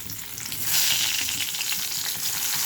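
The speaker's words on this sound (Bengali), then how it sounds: "বেগুনগুলো দিয়ে ভেজে নেব।" Eggplant pieces frying in hot oil in a pan for sukto give a steady, close sizzle with crackling hiss that swells slightly after the first moment and holds throughout, with no voices.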